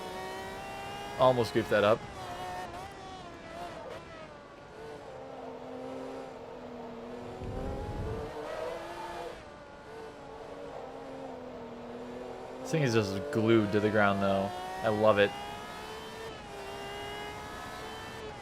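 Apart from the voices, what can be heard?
race car engine revving in video game Forza Motorsport 2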